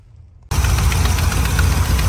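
A 1969 Jeep Gladiator pickup engine abruptly starts up loud and close, settling into a steady, rough mid-pitched idle with a continuous vibrating rumble.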